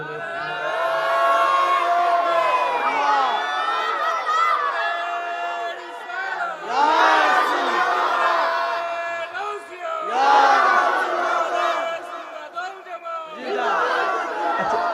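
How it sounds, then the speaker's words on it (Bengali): A large crowd at an outdoor religious sermon gathering roars out takbir in unison, loud swelling shouts repeated in several waves with brief lulls between them. "দুইটা হাত সোজা করে আমার আল্লাহরে দেখাই, আর জবান না খুলে জোরে একটা তাকবীর হবে, জোরে।"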